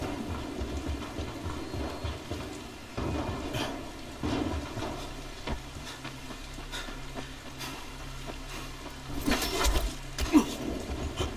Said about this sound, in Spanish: Encima llueve.